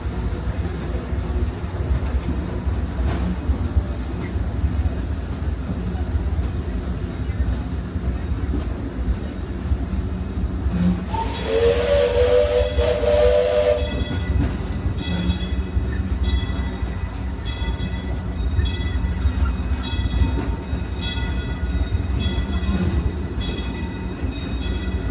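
The Disneyland Railroad steam train rolls along with a continuous rumble and clatter of wheels, a loud steam whistle blast sounding midway, then rhythmic clicking on the rails.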